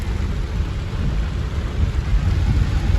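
Torrential village rain pours in a steady, dense roar, with low rumbling thunder blending into the constant wash of the downpour, loud and close throughout.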